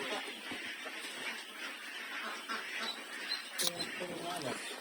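Ducklings on a Philippine duck farm quack and peep in a busy, continuous chatter, with a sharper call near the end, while people talk nearby.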